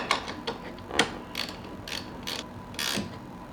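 A ratchet tightens the positive battery cable on a 2019 Ram 2500 diesel, heard as close, rapid bursts of mechanical clicking, about six short runs of ratcheting in quick succession.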